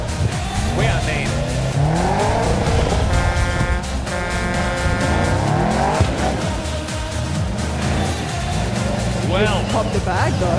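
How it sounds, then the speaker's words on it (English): Car tyres squeal and skid under braking, a loud, sustained screech with wavering pitch over revving engines at a motorsport event, while people talk throughout. "he wasn't going to take it off the pad without getting the tyres off, even if it did mean an on-brake skid"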